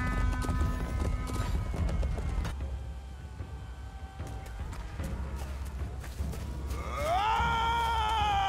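A horse gallops in the medieval combat game Chivalry 2, rhythmic hoofbeats pounding under battle noise, ending with a loud rising whinny.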